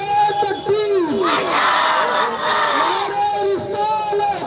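A large crowd at a Jashn-e-Dastarbandi madrasa celebration in Burhanpur loudly shouts back the response to the slogan Nara-e-Takbir, a near, dense roar of many voices, with a lead voice calling over the chant.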